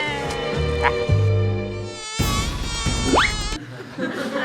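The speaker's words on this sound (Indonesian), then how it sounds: "Ada nyamuk di pipi kamu nih." A mosquito buzzes in thin, high whining tones that rise and waver, close to the ear, heard alongside a playful comedy scene with other sounds around it.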